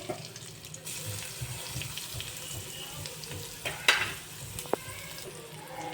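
Onion roasts in a pan with cumin and curry leaves, giving a soft, steady frying hiss with a couple of brief clinks of a utensil; no one speaks.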